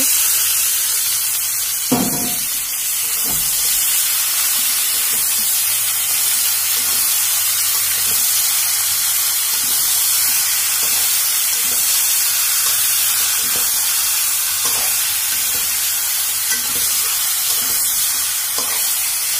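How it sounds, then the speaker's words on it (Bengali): Marinated meat sizzles and fries in a pan with onions, cloves and cinnamon, a steady close hiss running throughout with a few louder stirring clatters; no one speaks. "আমার ভাজা হয়ে গেছে, তো এখন আমি মিশিয়ে থাকা মাংসটা পুরোটা ঢেলে দিব।"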